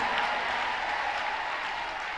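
A church congregation applauds, a dense, steady wash of clapping from a crowd that holds at an even loudness throughout, with no clear voice rising above it.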